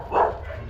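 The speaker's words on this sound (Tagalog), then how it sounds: "Mga aso." Large dogs at a house in Bulacan, a single short bark close by, loud and brief.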